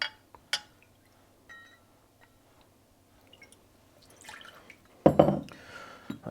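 Sweet vermouth measured out and poured for a Negroni: sparse drips and light glassy clinks, then a short close splashing pour into a glass near the end.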